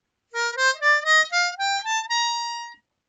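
A diatonic harmonica runs up a major scale in clear, bright single reed notes, evenly paced and close, finishing on a sustained top note with no other sound around it.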